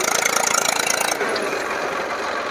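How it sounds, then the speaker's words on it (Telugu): Eicher tractor engine running close by, with a rapid rhythmic diesel chugging at first that settles into a denser, steady rumble. "అట్లుంటుంది దీని సౌండ్"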